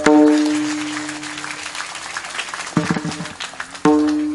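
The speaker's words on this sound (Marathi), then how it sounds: "जरा आपणच आपल्यासाठी एक जोरदार टाळी वाजवा" A crowd at a Marathi kirtan gives a short round of applause, scattered claps rising under lingering harmonium notes and a voice, fading quickly before the music returns.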